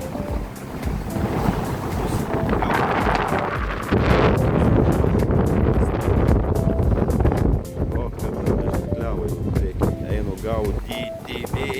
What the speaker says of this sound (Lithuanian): Patikėkit, vėjas blemba štorminis. Kokias bangikės.